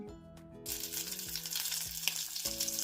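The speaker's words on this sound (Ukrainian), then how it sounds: "Котлети тільки починають смажитися" Sauerkraut and buckwheat cutlets sizzle and crackle in hot oil over medium heat, a steady frying hiss that swells after a quiet start, with a low musical tone underneath.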